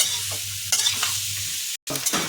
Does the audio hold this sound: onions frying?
yes